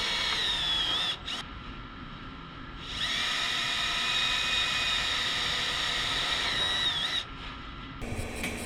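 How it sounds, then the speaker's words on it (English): A power drill bores plug-weld holes through a car quarter panel skin, a steady high whine that runs loud for several seconds, pauses briefly, then resumes with short bursts near the end. "I'll drill some holes for plug welds where I can't get the spot welder to reach."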